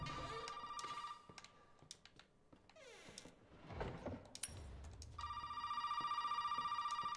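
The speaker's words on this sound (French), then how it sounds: "Allez, répondre au téléphone." A telephone rings loudly in the horror video game Resident Evil 7, with steady electronic trills at the start and again near the end. Between the rings come clattering, door-like and movement noises.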